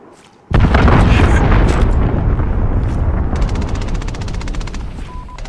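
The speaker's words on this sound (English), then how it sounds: "Allied cruise missile launched." Cruise missile strike explosions in Call of Duty: Modern Warfare erupt suddenly after a quiet moment, a huge sustained roar of blasts and rumbling debris that slowly fades, with rapid machine-gun fire joining partway through.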